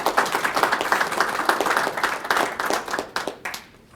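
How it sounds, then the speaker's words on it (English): An audience claps for a panel at a community benefits and land trust workshop, the applause firm at first, then thinning into scattered individual claps as it fades out. "So please give a round of applause to our panel here."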